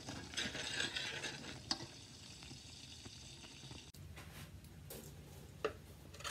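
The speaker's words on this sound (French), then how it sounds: "On fait fondre à feu moyen les guimauves et le beurre, tout en touillant." A spoon stirs marshmallows and butter as they melt in a pot over medium heat, giving soft scraping and faint bubbling, with a couple of sharper clinks against the pot.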